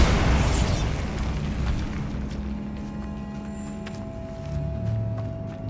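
A Bombarda blasting spell detonates in Hogwarts Legacy, one loud explosive boom with a crackling burst that decays into rumbling debris and a scattered clatter over several seconds.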